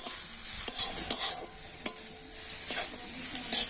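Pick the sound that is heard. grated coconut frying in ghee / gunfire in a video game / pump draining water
grated coconut frying in ghee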